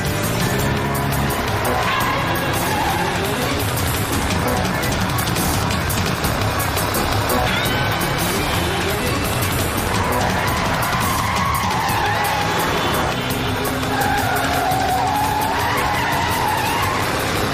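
A car with failed brakes skids out of control, a long loud tire squeal with rising and falling screeches over steady engine roar, close and continuous throughout.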